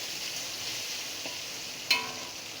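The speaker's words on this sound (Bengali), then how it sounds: "আদাটা দিয়ে দিয়ে একটু আদার কাঁচা গন্ধটা চলে যাওয়া পর্যন্ত একটু নেড়ে চেড়ে ভেজে নেব।" Grated ginger fries in a pan with a soft, steady sizzle under occasional stirring, and a single bright clink of a spatula against the metal partway through.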